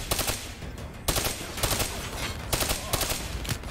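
Rapid bursts of rifle gunfire in the Black Ops 3 video game, several loud three-round volleys repeating in quick succession with short gaps between them.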